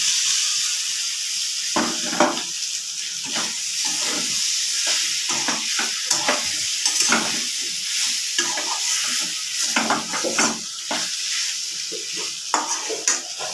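Fried potato and pointed gourd pieces stirred into poppy seeds sizzling in a pan, with steady frying hiss and repeated scraping, clattering strokes of a spatula close up throughout, no voices.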